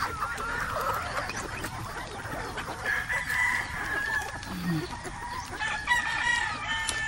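Chickens cluck and a rooster crows in a farmyard range with large black, white and brown hens, steady busy clucking under several crows rising over the flock, with faint talk nearby.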